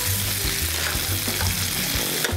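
Shrimp with heads and fresh mussels sauté for paella in a hot pan, a loud, dense, continuous sizzle with faint stirring knocks underneath, close up and without talk.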